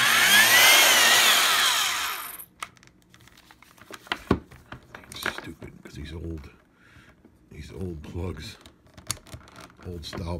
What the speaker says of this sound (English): you just have this urge to drill